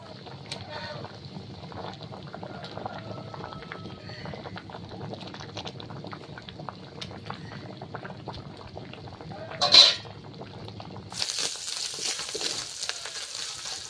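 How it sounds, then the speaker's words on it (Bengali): A pot of vegetable curry with fish bubbles at a low, steady simmer, a soft continuous boil with a brief clatter near the end and a louder hiss taking over in the last seconds. "তরকারি ফুটে উঠেছে, এবার মাছগুলো ঝোলে দিয়ে দিচ্ছি।"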